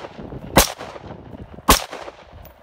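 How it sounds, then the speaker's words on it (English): Two loud, sharp AR-15 rifle shots fired outdoors at a camping spot toward downrange targets, about a second apart, each a sudden crack with a short decay and no talking in between. "I'm gonna fire this AR-15 for my friend."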